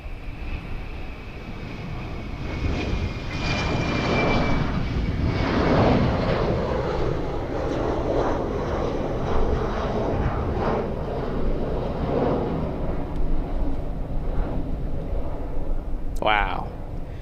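An airplane roars during takeoff at a plane-spotting location, a loud swelling engine rumble buffeted by strong wind noise, with a short tonal chirp near the end.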